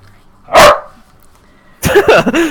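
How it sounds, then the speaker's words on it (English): A pet dog gives one loud, close bark as a greeting, followed by a person speaking during a tabletop game session. "She just barks at me."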